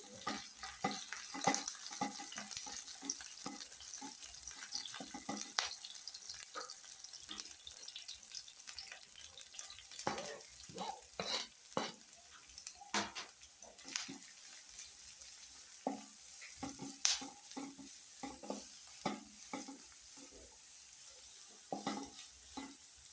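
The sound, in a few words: frying and stirring cabbage in a pan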